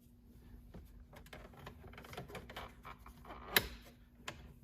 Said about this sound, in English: just one clip popped